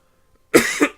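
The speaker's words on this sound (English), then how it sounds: "I don't know why I'm coughing so much." Three short, sharp coughs in quick succession after a brief silence, close and fairly loud.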